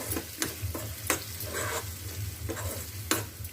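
Chili powder is stirred into a sizzling frying pan, with steady close frying crackle under repeated scraping stir strokes of a spoon against the pan.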